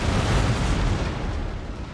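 A ship's cannon broadside fires in the naval battle game Napoleon: Total War, a loud, continuous rolling boom that fills the whole moment and fades slightly toward the end.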